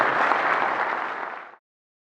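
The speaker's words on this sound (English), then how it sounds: "Let's give him a round of applause." Crowd applause at a Michigan big buck night event honoring a hunter, a steady, fairly loud wash of clapping that cuts off abruptly after about a second and a half.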